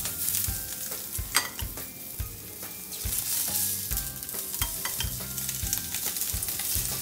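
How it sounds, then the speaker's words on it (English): Peeled and deveined prawns, heads and tails left on, sizzle in hot vegetable oil in a pan, a steady frying hiss with scattered pops and stirring clatter, close and moderately loud, with no voices. "This is ready to cook these prawns."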